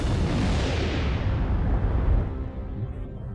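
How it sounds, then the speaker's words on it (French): A huge supernova explosion rendered as a sustained, roaring rumble, broad and loud from the start, slowly thinning and fading toward the end with no voices. "les couches extérieures tombent vers l'intérieur, puis rejaillissent vers l'extérieur en une immense explosion"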